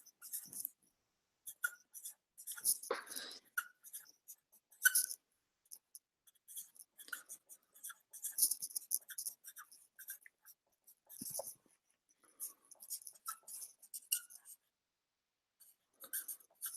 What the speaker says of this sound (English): I'm just gonna write it down for you guys